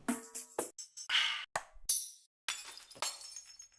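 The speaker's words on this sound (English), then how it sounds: "Glass breaking is fun." Glass-breaking sound effects auditioned during live music production: a series of sharp, bright shatters and tinkling fragments, about eight bursts separated by brief silences, close and clear with no voices.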